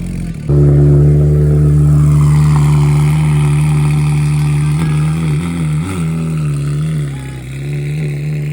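A Porsche 911 GT3 R Rennsport race car engine bursts into a loud, close, deep idle and holds a heavy, rumbling drone with a few throttle blips and wavering revs.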